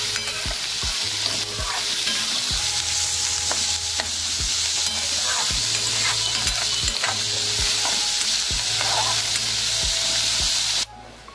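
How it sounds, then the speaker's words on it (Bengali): Chopped onions fry in a pan as Bengali egg bharta is cooked, a steady close sizzle broken by repeated scraping knocks of a spatula stirring, continuous and alone for about eleven seconds. "পেঁয়াজটা আমার ভাজা হয়ে গেছে,"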